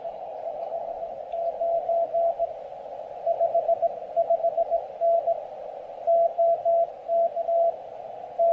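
An amateur radio Morse code signal beeps in keyed dots and dashes over a soft hiss, its strength swelling and dropping as the signal fades in and out.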